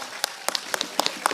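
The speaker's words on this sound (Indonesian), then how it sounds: "tepuk tangan untuk gandrung Nabi." Scattered, faint hand claps come from an audience at an Islamic religious sermon gathering, a handful of sparse, uneven claps over about a second.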